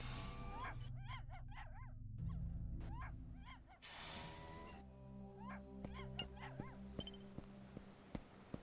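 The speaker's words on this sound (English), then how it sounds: "Puppy's barking at something down below." Small dog barking in Tales of the Neon Sea, a cyberpunk detective game, giving several short yips in bursts over a layered synth and ambient game soundtrack.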